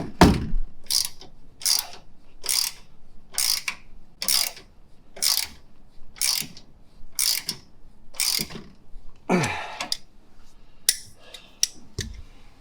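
A hand ratchet tightens lift kit bolts on a Toyota Tacoma during an Old Man Emu 3-inch lift install, giving about a dozen steady, evenly spaced clicking bursts up close, followed by a couple of sharper metallic clanks at the end.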